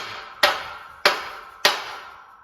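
Three sharp strikes of a Harbor Freight hammer on metal, evenly spaced about half a second apart, each ringing briefly before the next; close and fairly loud with no talking.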